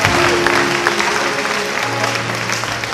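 A church congregation at a Côte d'Ivoire worship service applauds the Lord with a loud, dense wash of clapping that sustains throughout, mixed with crowd murmur and voices.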